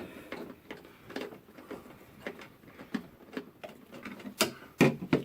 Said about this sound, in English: Now take this mounting screw and screw it into that center hole where the nipple is facing in.